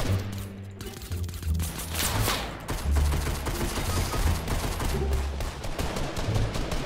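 Rapid, loud video game gunfire in a fast-paced multiplayer shooter, with dense bursts of shots and automatic fire continuing throughout, close and overlapping.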